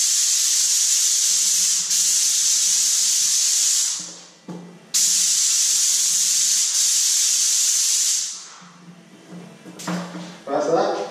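A paint sprayer fitted with low-pressure tips lays down a coat in two long, continuous hissing bursts separated by a brief pause, with a few light knocks and handling noises after.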